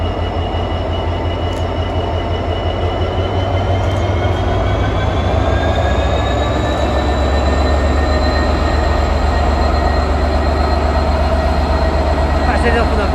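Freight locomotive 66719 rolls loudly past at Wrexham General station with a heavy, continuous diesel drone and rumbling wagons. Faint wheel squeal and hiss sit above the steady clatter.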